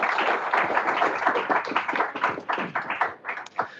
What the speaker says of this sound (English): I'd like to have a big round of applause for MongoDB